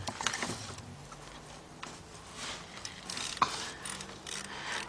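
A socket ratchet loosening a bolt on a Chrysler/Dodge/Jeep vehicle, giving faint, quiet clicking and mechanical rattling in short bursts against background noise.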